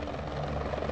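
Steady, close helicopter rotor blades spinning, a dense continuous whirring drone that holds even and loud with no pauses.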